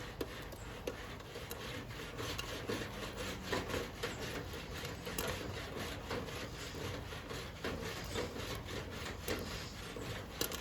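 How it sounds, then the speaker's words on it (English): Popcorn kernels popping inside a Coleman popcorn popper, a dense, steady run of scattered crackles and pops over a continuous mechanical rushing background, fairly close and evenly loud throughout. "I hear some crinkling. I hear some noise. Oh, I do see a few popcorn kernels popping."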